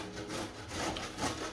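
Cheese rasps against a grater while being shredded for beef enchiladas, a close, steady scraping in repeated back-and-forth strokes with no talk.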